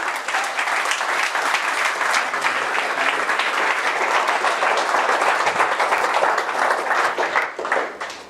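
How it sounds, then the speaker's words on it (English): An audience at a tech meetup talk applauds warmly, a dense sustained wave of clapping that holds steady for several seconds before tapering off at the end. "Round of applause!"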